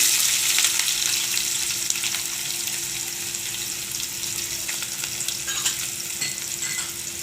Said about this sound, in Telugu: ఒక కప్పు ఉల్లిపాయ వేస్తున్నాను.